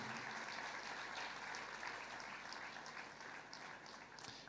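A church congregation claps loudly and continuously in praise during a revival service, a dense, even wash of applause that holds steady throughout.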